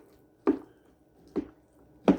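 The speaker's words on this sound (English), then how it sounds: "I'm just going to take my spoon and I'm just going to stir all this up." A spoon works through a wet tomato and garlic bruschetta mixture in a bowl, three separate soft squelching thuds spaced under a second apart, close and alone with no voices.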